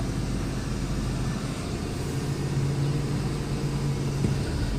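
A Ford 4.6 engine, warmed up, is held at a steady 2,000 RPM for a catalytic converter check, producing a constant low hum with a faint tonal drone and no change in pitch.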